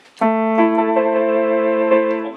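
A single sustained synthesized keyboard tone with a rich harmonic, piano-like timbre, held steadily for about two seconds at close range.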